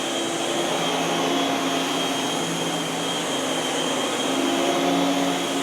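A Miele S7 U1 upright vacuum cleaner runs steadily with its brush roll spinning, a loud continuous whine and airflow roar that holds evenly throughout, with no talking.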